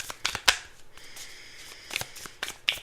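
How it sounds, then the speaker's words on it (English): Tarot cards being fumbled and shuffled by hand, with close, uneven riffles, flicks and soft rustling bursts that come in quick clusters and have short pauses between them. "Fumbling the cards."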